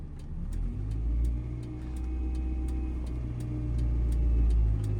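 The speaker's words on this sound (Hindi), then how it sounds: "चलो हल्का सा एक्सीलेटर लेके पहले एक बार कार को उठा लो।" A car pulls off gently with light throttle during a driving lesson, its engine humming low and steady with a soft rising rev, fairly quiet and close.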